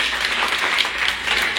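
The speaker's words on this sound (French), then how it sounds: "moi je fais un gros applaudissement pour nous tous" A crowd at a Miss World Haiti grand final applauds, a dense steady wash of many hands clapping, loud and continuous across the whole moment with no pauses.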